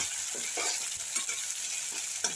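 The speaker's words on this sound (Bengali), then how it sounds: "টমেটো প্রায় ভাজা হয়ে এসছে অনেকটাই" Tomatoes frying in a pan for a bottle gourd curry, with a constant close sizzle and a series of scraping, clattering stirs at irregular intervals, no voices.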